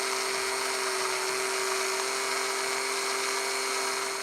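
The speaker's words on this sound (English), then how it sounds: "I'm just going to use my drill here to carefully drill a small hole in the centre of this disc" A small drill bores a hole through the centre of a plastic toy disc, giving a steady, high-pitched whine that holds at an even level, close and loud, with no talking.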